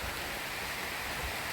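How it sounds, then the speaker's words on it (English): Steady rain falling outdoors around a farm pond with chickens and goats, a continuous even hiss of moderate loudness with no breaks or voices. "We're getting rain, people, and I'm loving it."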